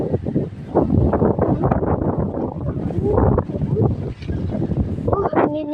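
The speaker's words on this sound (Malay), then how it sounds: "Nak tengok-tengok angin." Strong wind buffets the microphone in steady, loud gusts, with people talking over the rumble throughout.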